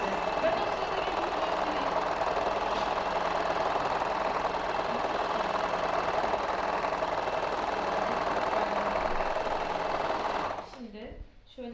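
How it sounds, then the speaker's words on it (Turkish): Overlock serger sewing machine running nearby, a steady loud rapid mechanical whir and clatter that holds for about ten seconds, then stops, leaving quiet room sound. "Overlock çok ses çıkartıyor maalesef."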